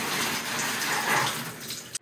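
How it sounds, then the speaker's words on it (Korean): A shower of tap water is sprayed over the leaves of a large houseplant on a balcony garden, a steady close hiss that swells in the middle and cuts off abruptly at the end. "참 종종 이렇게 물 샤워를 시켜서 마무리를 해주는 편이에요"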